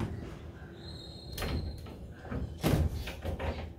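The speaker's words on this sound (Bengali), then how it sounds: "দরজাটা বন্ধ করে দেই" A door being shut on a rainy day, with a couple of sharp wooden knocks and a thud close by, over a soft background hiss.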